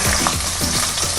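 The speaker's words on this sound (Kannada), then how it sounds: "ಕರಿಬೇವು ಇದಿಷ್ಟನ್ನು ಹಾಕ್ಕೊಂಡು ಫ್ರೈ ಮಾಡ್ಕೋಬೇಕು." Garlic, green chillies and curry leaves fry in hot oil after mustard seeds in a home kitchen pan, making a loud, steady, close sizzle throughout.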